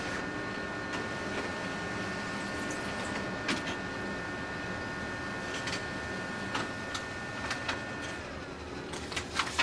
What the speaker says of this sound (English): press the online button on your printer and it will start picking it up again